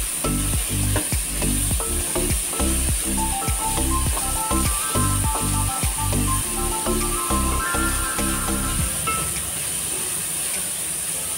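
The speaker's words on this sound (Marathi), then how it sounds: "हे कांदे 4 उभे चिरून घेतलेत ना ते चांगले ब्राऊन रंगावर खरपूस भाजून घ्यायचे" Sliced onions fry toward brown in a pan, a constant close sizzle broken by a rapid series of rhythmic scraping knocks from stirring that fade out near the end.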